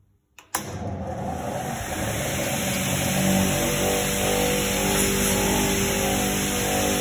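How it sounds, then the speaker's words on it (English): Oberg table saw motor starting up: a sudden click and surge, then a steady loud whirring drone with high whine tones building and holding at full speed, no talking. "So I can start the engine."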